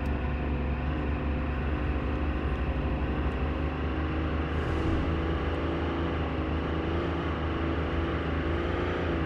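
A car driving in the Game Store Simulator video game, with a steady, continuous engine drone at constant loudness throughout, close and unbroken, and no talking.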